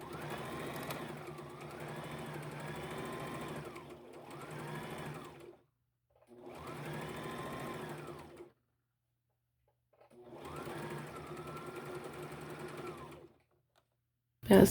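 A sewing machine stitches a seam with a 5/8 seam allowance, running in four steady, whirring bursts of a few seconds each, separated by short pauses, with a sharp knock at the very end.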